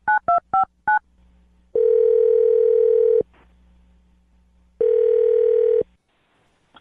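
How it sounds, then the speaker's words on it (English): A phone number is dialed as four quick, loud touch-tone beeps, followed by two long, steady telephone ringing tones separated by a pause of quiet line hiss. "Now I'm going to dial Rick's phone number"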